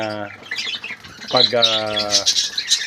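Pet parakeets squawking in a colony cage, short harsh calls repeated nearby with a person talking over them.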